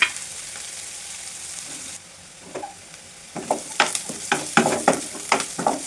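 Onions sautéing in a pan until golden for a cumin curry: a soft sizzle first, then a run of loud, close scraping stirs with a rhythmic clatter of spoon against pan, no voices.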